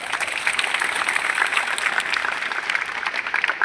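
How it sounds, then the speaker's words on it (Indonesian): An assembly at a school opening ceremony claps together in dense, steady applause, a close, even patter of many hands with no voices over it. "Tepuk tangan dulu."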